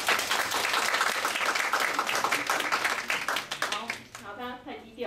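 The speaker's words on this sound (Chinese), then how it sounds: "好，我们掌声欢迎一下这个张志成先生。" An audience applauds at a competition event in welcome of a Siemens consultant, dense steady clapping lasting several seconds before thinning out, with a voice speaking over the end.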